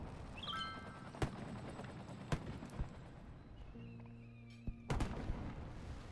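Fireworks go off in a park in a city-building video game: three or four sharp, separate bangs over a low background hum, with a short whistling tone near the start.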